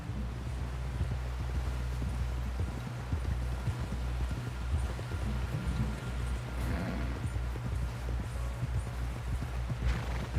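Horse hooves clip-clop steadily at a walking pace in Red Dead Redemption 2, a continuous rhythmic patter close by under a low rumbling game soundscape, with no talk.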